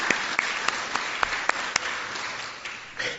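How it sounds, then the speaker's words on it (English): Applause for friends and family at a pharmacy school white coat ceremony, heard as a rippling round of clapping in a large hall with a few sharp, distinct claps standing out, held steady for a few seconds. "So how about a round of applause for our friends and family?"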